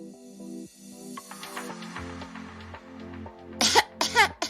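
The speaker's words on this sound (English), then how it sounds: "The definition of cough is to expel air from the lungs suddenly with a harsh noise, often involuntarily." A person coughs twice in quick harsh bursts near the end, after a few seconds of soft melodic music playing alone.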